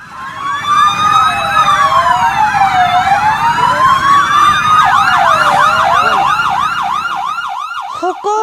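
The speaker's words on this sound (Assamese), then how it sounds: "বাজিছে কাণত সঘনে পুলিচ এম্বুলেন্সৰ চাইৰেনৰ শব্দ" Police and ambulance sirens wailing loudly and close, several overlapping tones sweeping up and down, then switching to a faster yelping pattern near the end.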